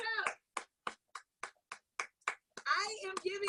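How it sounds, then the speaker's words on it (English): About nine crisp, evenly spaced hand claps ring out one after another in a steady rhythm, close and fairly loud, with a voice talking just before and just after them. "Everybody, please clap that up."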